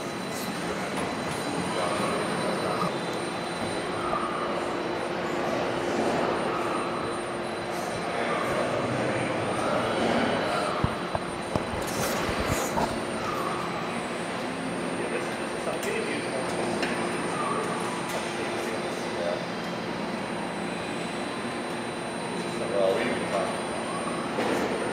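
Automated wafer transport vehicles run along overhead rails in the GlobalFoundries Fab 8 semiconductor cleanroom, giving a steady mechanical rumble and whir with occasional faint squeals and clicks over a constant hum.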